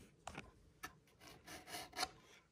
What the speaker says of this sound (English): Just kind of roughed it in on the set, some sanding.